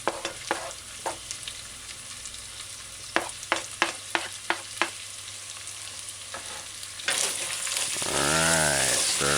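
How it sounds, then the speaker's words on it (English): Chicken chop suey stir-frying with chopped scallions, mashed garlic and ginger, a steady sizzle broken by a run of sharp utensil clacks, swelling into a louder, fuller sizzle near the end. "Alright, stir fry."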